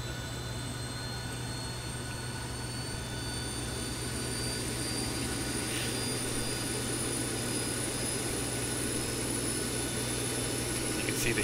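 A steady Boeing 737 auxiliary power unit in X-Plane 11 whines and roars as it spins up, a continuous high-pitched turbine tone over broad rumbling noise, gradually growing louder.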